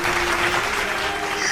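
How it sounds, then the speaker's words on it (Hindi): Broad, even clapping fills the whole stretch, as if a whole class of children were applauding together indoors, with a faint voice-like tone beneath it. "बल्कि पूरी क्लास के बच्चों से ताली बजवाई"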